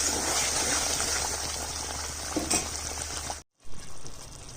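Cashew and fennel spice paste simmering with water in a pan while cooking a catla fish curry, a steady bubbling sizzle that runs nearly throughout and cuts off briefly near the end.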